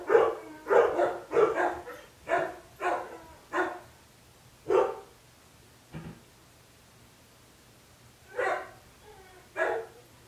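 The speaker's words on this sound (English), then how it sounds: "I don't know if you can hear my dog barking," A dog barks repeatedly nearby in quick bursts, then pauses and barks a few more times, with a faint steady hum in the background.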